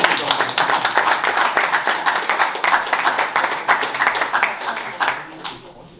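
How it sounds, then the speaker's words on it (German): Applause at an Age of Sigmar tabletop gaming tournament: a small group claps steadily and briskly for several seconds, close by, tapering off toward the end, with a voice speaking over it. "offiziell einmal Applaus an dich"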